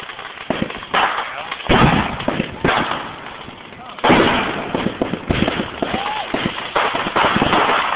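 Fourth of July fireworks crack and boom in repeated sharp bursts with rumbling tails, fairly loud and close, mixed with crowd noise and talking throughout.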